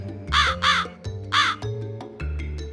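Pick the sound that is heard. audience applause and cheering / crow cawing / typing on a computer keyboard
crow cawing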